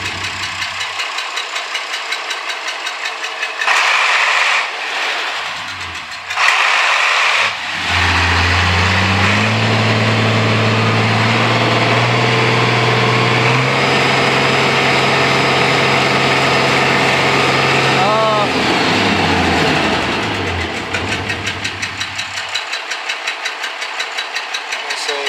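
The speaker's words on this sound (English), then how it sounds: "Good run old tractor." An old diesel tractor engine runs loud and close, a steady knocking idle that climbs to a higher, droning speed and holds there before settling back down.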